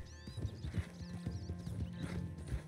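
Horse hooves clip-clop in Red Dead Online, a steady trotting rhythm heard close up with a faint whinny-like tone over it and no talk.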